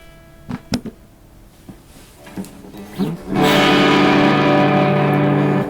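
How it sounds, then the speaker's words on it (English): An electric guitar runs through a tape echo with the reverb turned low: a few sparse plucked notes and taps come first, then a loud, sustained distorted chord rings out and holds to the end. "I'm going to turn the tape echo on so that we have it pre-echoed and the reverb way down, way low."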